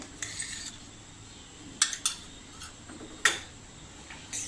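A metal spoon clinks against a bowl while milk powder is stirred into a cornflour mixture for instant kharvas, a few sharp, separate taps spaced irregularly over a quiet background.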